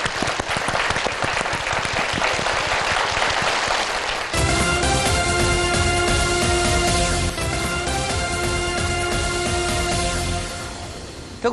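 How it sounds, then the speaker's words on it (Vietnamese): Loud game show studio audience clapping, a burst of sustained applause that gives way to upbeat music partway through while the clapping fades beneath it. "chúng ta cùng dành một tràng vỗ tay thật lớn để chúc mừng họ."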